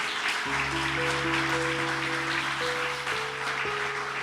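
A church congregation applauds steadily in a large hall while sustained organ or keyboard chords play underneath.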